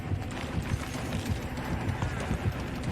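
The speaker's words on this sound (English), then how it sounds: "Listening to the footsteps as they run past." Rapid, rhythmic footfalls of characters running past in a Dead by Daylight-style tournament match against the Spirit killer, steady and close, with commentary talk over them.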